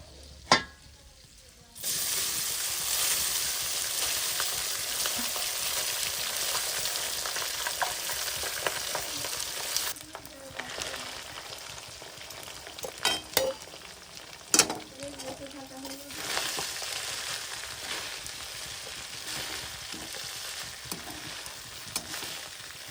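Cooked rice tipped into a hot pan for fried rice, setting off a loud, steady sizzle that runs almost throughout, with occasional scraping and clatter as it is stirred and tossed, close by and without talk.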